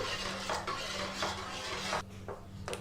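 A spoon scrapes and knocks steadily around a pan while Bombay Karachi halwa mixture is stirred into melted sugar, with continuous close scraping and no voices.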